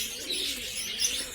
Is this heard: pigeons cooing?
yes